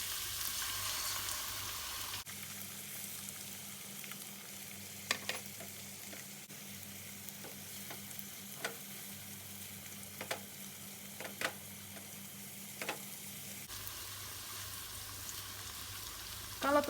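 Beaten eggs fry in a pan alongside rice vermicelli for Hong Kong-style fried noodles, a quiet steady sizzle with occasional soft clicks and scrapes of stirring.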